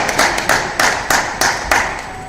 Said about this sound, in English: So round of applause for Dave.